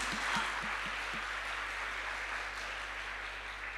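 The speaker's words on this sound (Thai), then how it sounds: "เราปรบมือให้กับพระเจ้าหน่อยดีไหมคะ" Congregation applause during a Thai church sermon service, a steady, dense wash of clapping that fills the whole clip at moderate level with no speech over it.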